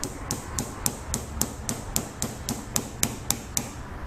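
A small hammer taps steadily on a metal axle to drive a wheel off a Trackmaster model train engine, about fourteen sharp even strikes, close and alone.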